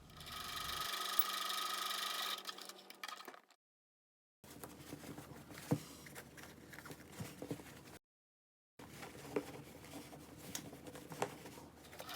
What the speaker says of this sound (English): Go ahead and sew the gap.